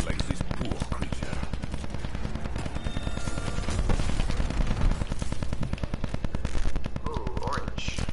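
Video game weapons fire continuously in fast, steady machine-gun-like bursts with deep booms underneath. The firing is dense and loud throughout, and people talk over it.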